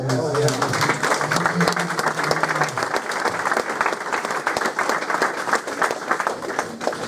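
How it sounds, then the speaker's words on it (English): An audience at a BTCC media day for Rob Austin Racing gives a round of applause, close and lively clapping with crisp individual claps, and a voice speaks over the start before the clapping carries on alone. "maybe a round of applause because he'll get the same support"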